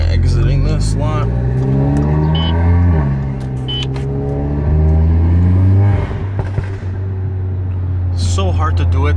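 An Audi with an IS-38 turbo accelerates on the road, its engine note climbing through rising revs and dropping at gear changes, heard from inside the car with people talking.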